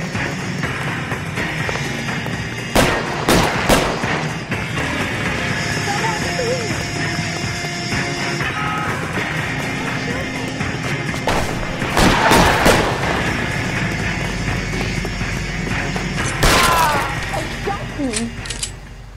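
Gunshots from the video game L.A. Noire ring out as a few sharp cracks among clanking mechanical game sounds, with a voice talking over them.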